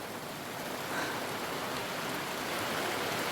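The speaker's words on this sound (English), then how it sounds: "It's just heavy rain and it was hailing for a little bit." Heavy rain with a spell of hail on a cold late-spring day at an off-grid garden, a steady dense hiss of downpour filling the whole clip without pause, no voices.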